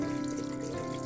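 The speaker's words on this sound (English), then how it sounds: "you clean it up with water." Tap water running steadily from a faucet as hands are rinsed after washing, a constant close hiss and splash with no talk.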